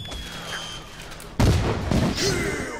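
Gunfire in a block-building video game mini game: a sharp, loud burst of shots that starts partway through and is followed by further rapid cracks over a busy game background, with no talking.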